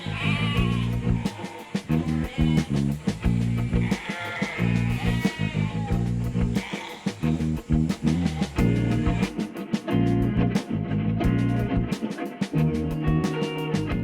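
Sheep bleat repeatedly at close range, a dense, continuous run of overlapping calls from a flock being brought in on a farm for checks and shearing, loud throughout with no pauses.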